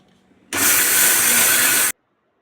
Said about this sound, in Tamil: இப்போ இந்த அரிசி மிக்ஸி ஜாரில் மாற்றி அரைச்சி எடுத்துக்கலாங்க.